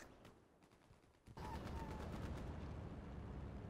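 Rapid gunfire in the Hell Let Loose game, a dense, loud burst of shots that starts abruptly partway through and continues steadily, following quieter scattered shots and faint talk.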